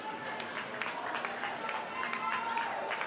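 A crowd at a high school varsity basketball game gives an ovation after the home team's win, with steady applause and cheering, fairly distant and diffuse, lasting throughout.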